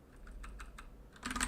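Fingers tap on a computer keyboard, a quick run of soft key clicks that grows into a louder, denser burst near the end, close and alone with no talk.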